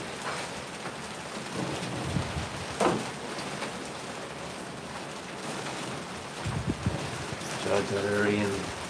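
Rain and thunder during Hurricane Melissa in Spanish Town, Jamaica: steady heavy rain hiss throughout with low rumbling thunder and scattered gusty bumps, while voices talk intermittently over it.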